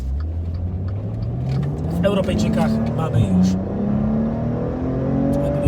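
A Maserati Ghibli SQ4 with 468 hp revs, its engine tone climbing steadily in pitch, loud and close under someone talking.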